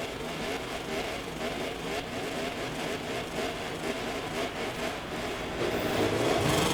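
Motorbike engine revving on the grid at the start of a race at Jerez in MotoGP 24, a steady loud drone of engines that swells toward the end.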